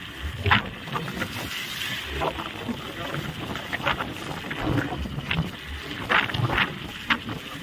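Strong wind buffets a passenger boat ride, a rough, gusting roar under a churning engine and water noise, with scattered voices in the background.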